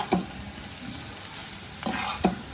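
Restaurant-style egg fried rice with spring onions is tossed in a pan off the heat, with a soft sizzle and two distinct scraping, clanking stirs of a spatula.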